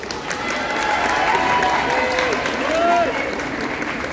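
A convention audience at a cosplay contest and awards ceremony applauds the prop makers, thick continuous clapping with scattered whoops and cheers rising near the end.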